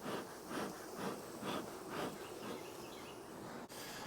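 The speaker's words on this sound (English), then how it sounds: "Man, there's a bunch of bees too." A faint swarm of honey bees around neglected hives at the end of the nectar flow hums steadily, the buzzing pulsing in soft waves with a brief bump near the end.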